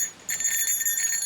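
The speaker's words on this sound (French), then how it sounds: "c'est pour ça qu'on a mis des petites clochettes sur les vélos" Small bells hung on touring bicycles as bear bells on a cycling trip in Alaska jingle in a brief, bright, shimmering burst of tinkling rings, close and fairly loud.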